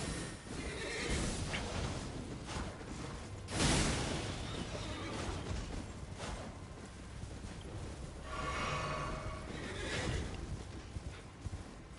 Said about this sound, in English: That guy on the horse is going to be problematic.